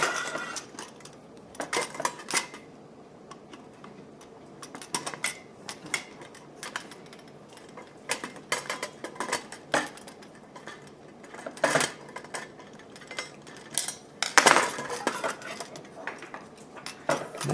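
Small metal clicks and clinks while a 2.5 mm Allen wrench tightens set screws on a coupler fitted to the shaft of a motorized Whirley Pop coffee roaster, with scattered ticks and taps over a quiet background.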